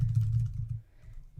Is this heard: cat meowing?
no